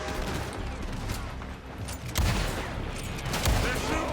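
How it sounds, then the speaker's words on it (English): Gunfire from a building in Red Dead Redemption 2, a loud rapid fusillade of shots with heavier booms mixed in, under a noisy game scene. "They're shooting from that building."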